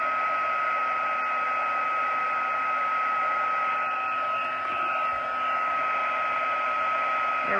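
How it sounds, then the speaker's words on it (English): A heat tool blows steadily as embossing powder melts on cardstock for a Brusho hummingbird piece, a constant whirring hiss with no pauses. "embossing powder starts to melt"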